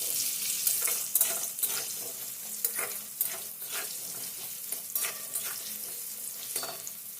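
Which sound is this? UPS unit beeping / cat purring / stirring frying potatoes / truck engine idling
stirring frying potatoes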